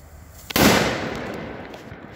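A 1.5 gram firecracker explodes outdoors right beside a bottle. A single sharp, very loud bang hits after a short quiet lead-in, and its echo fades away over the next second and a half.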